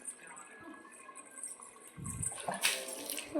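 Water splashing as a small girl washes with tank water outdoors, soft sloshes early then louder splashes and pouring toward the end, close by, with an adult voice heard faintly.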